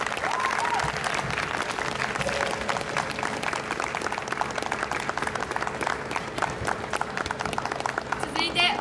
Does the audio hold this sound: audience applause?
yes